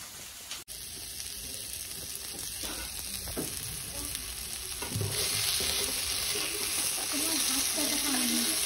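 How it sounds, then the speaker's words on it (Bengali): Chow mein stir-frying in a pan, a steady close sizzle with scraping stirs that grows louder and busier partway through. "এখানে এবার আমি চাউমিনগুলোকে দিয়ে দেবো"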